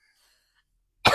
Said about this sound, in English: coughing on the couch